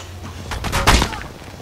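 Gunfire in the mobile shooter Apex Legends Mobile, a quick burst of sharp shots peaking near the middle, loud and close over a low background rumble.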